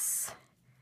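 Plastic pen refills snapped off a pen barrel, giving one brief sharp click close up, followed by a quiet tail.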